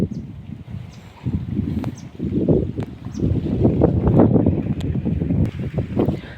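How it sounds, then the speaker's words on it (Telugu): Cool wind blows beside farm fields under a tree, rushing and buffeting the microphone in uneven gusts that swell louder through the middle, with faint chirps above. "ఇక్కడ చల్లగా గాలి వస్తుంది"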